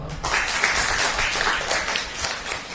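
A group of teenage girls at a Brahma Kumaris class claps together for Baba, a steady dense patter of applause lasting throughout without a break.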